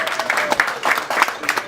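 A crowd claps and cheers in a dense burst of applause, with voices mixed into the noise.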